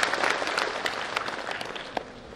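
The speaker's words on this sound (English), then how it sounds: "clap for yourselves." Graduates applauding at a university convocation ceremony, a dense wash of many hands clapping together, steady and moderately loud for a couple of seconds with no talk over it.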